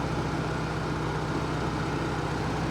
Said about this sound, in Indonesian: Kondisi mesin halus suaranya